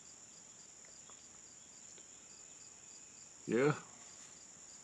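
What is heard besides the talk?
autumn insects chirping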